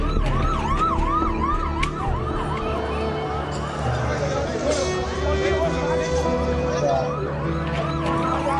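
Ambulance sirens wailing on a crowded road near the Sangam at the Kumbh Mela, a steady rising and falling cycle over continuous traffic rumble and crowd noise, heard from moderately close.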